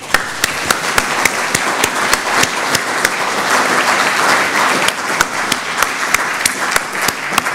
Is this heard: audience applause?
yes